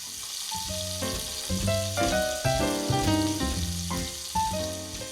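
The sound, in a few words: pancetta frying in olive oil in a pan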